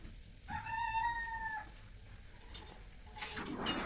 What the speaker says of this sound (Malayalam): കോഴിക്കളെ കൊണ്ട് തോറ്റില്ല, ഇടക്ക് കൂവുന്നുണ്ട്